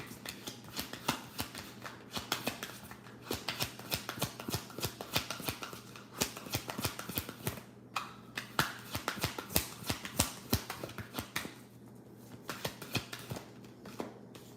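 Tarot cards are shuffled by hand, a close run of crisp rapid riffling snaps and flutters in uneven bursts, with no talking.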